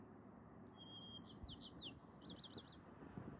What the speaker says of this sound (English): It's a white-crowned sparrow singing.